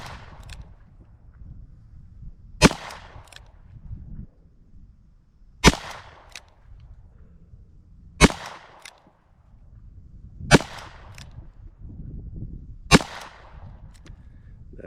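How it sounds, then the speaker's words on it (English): A Smith & Wesson Model 10-10 revolver fires six sharp, evenly spaced shots at roughly two-and-a-half-second intervals, each a loud crack over quiet outdoor background at a shooting range. "I'm going to start with the Model 10-10 first, and put 6 rounds into the center."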